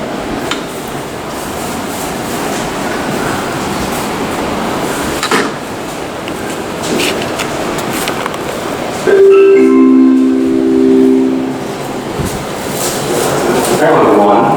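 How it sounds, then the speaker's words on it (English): A New York subway 7 train at the 69th Street station in Woodside rumbles steadily and close by, with brief metallic squeals and screeches toward the end. "7 train."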